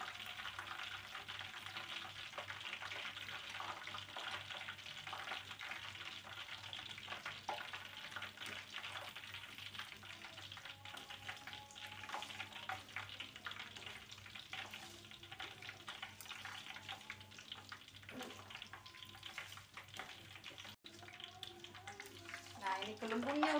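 Lime leaves sizzle and crackle steadily in hot bubbling oil, a soft continuous frying hiss with faint clinks, fairly quiet throughout.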